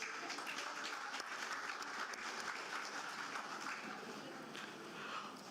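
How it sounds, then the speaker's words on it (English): A crowd of orientation attendees claps continuously for the seniors, a dense, even wash of applause that holds steady and stays fairly faint. "So big round of applause for all lovely seniors."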